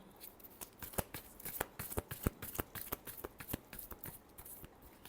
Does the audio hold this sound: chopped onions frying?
no